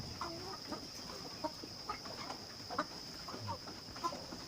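Eighteen-week-old Hisex Brown laying hens cluck softly and irregularly at a little distance, over a steady high-pitched hum in the background.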